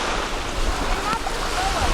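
Gentle, calm waves at a Florida beach inlet at Smyrna Dunes Park, a steady soft rushing wash blended with wind buffeting on the microphone, continuous and fairly loud.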